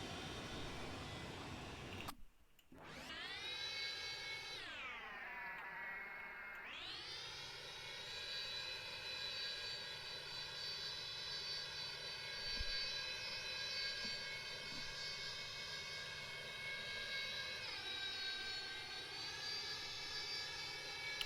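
Jet engines of an ERJ-145 in a flight simulator game spool down, then surge into a loud, steady roar of reverse thrust on landing, holding at a sustained whine with a slight drop in pitch near the end.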